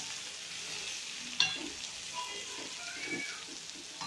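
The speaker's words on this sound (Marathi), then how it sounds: "ठेचा परतून झाला की त्याच्यात कांद्याची पात, चांगली हलवून घ्या।" A spoon stirs fried green chili thecha with spring onion greens in a pan, making a soft sizzle with light scraping, a sharp clink near the start, and a few brief stirring bursts.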